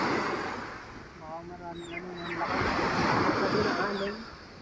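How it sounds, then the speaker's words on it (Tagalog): Strong surf crashes and washes steadily at Ransohan Beach, mixed with wind noise against the microphone, while a voice briefly speaks over it. "naririnig ko ang sobrang lakas ng hampas ng alon"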